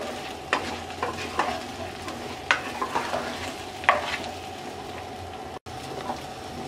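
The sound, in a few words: frying jujube plums (boroi) in pan on medium heat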